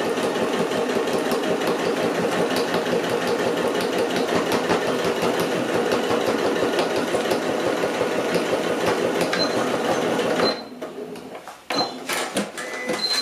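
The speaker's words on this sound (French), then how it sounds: "Et donc, on va coudre." Sewing machine stitching a reusable tote bag, a loud steady rapid mechanical chatter running close and continuous for about ten seconds, then stopping abruptly, followed by a few faint handling clicks.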